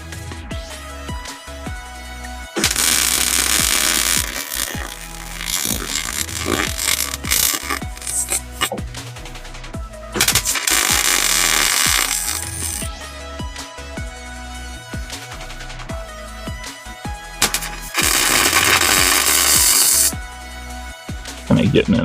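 A Hobart Ironman 230 MIG welder lays beads on a broken kids' go-kart frame, filling old porous welds; loud crackling buzz bursts of several seconds alternate with pauses where someone talks.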